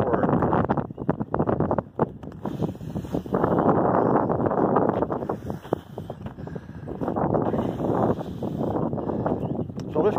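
Strong wind buffets the microphone outdoors on a Civil War battlefield in Grainger County, a steady loud rumble that barely lets up.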